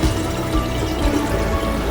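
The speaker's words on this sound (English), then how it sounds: "It's splashing pretty good." Water falling and splashing into a sump beneath a bench build, a constant, fairly loud churning wash of liquid without breaks, close by.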